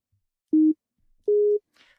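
Two short steady synth tones from the Obsidian FM synthesizer in NanoStudio 2, each a plain held pitch with a slightly higher second note, separated by silence; clean and isolated with no talk.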